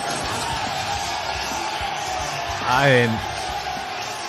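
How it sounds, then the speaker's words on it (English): Stadium crowd roaring and cheering at UFC 302, a broad steady wash of distant voices with a brief swelling shout, heard beneath someone talking up close. "the crowd's going bananas for him"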